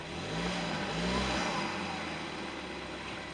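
A Ford Escape with a rough-running, overheating engine is shifted into drive and pulls away, its engine note rising into a brief surge of acceleration that then settles, with no talking.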